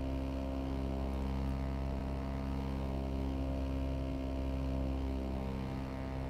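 An Abarth 595 SS Step 2 engine in the Assetto Corsa racing game drones at a steady, constant pitch on the Nordschleife, a dense harmonic engine tone held without change for over six seconds.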